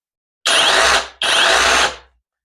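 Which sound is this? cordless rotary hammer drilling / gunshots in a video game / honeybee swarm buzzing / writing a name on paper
cordless rotary hammer drilling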